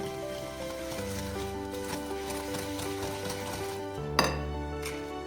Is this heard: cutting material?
no